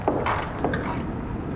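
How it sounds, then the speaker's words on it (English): A ratchet and wrench tighten a bolt while installing a B and W Companion underbed gooseneck hitch on a 2016 GMC Sierra 3500, giving a few short, close metallic clicking bursts. "use a ratchet or another wrench to tighten it up"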